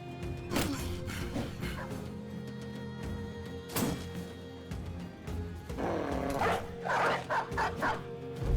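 Dogs barking and yipping in a medieval strategy video game, several short sharp bursts and whimpers scattered across the stretch at moderate loudness, with no speech.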